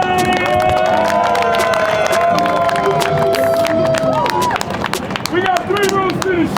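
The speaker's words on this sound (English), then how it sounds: "On 3, we clap and go crazy." Show crowd clapping and cheering, loud and close, with shouts and whoops over a dense burst of clapping and voices calling out throughout.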